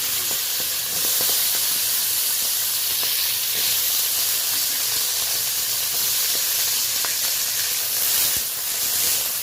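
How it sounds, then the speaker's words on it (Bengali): Green peas fry in a little oil in a wok, a constant loud hiss with scattered small crackles and an occasional sharper tap, no talk. "এবার কড়াইতে অল্প তেল রয়েছে তাতে আমি মটরটা ভেজে নেব সবুজ মটর"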